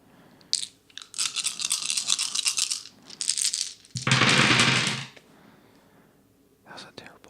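Small game dice with faces numbered 0, 1 and 2 rattling and clattering close up in a quiet room, with a couple of sustained rolls and a few brief clicks as they settle.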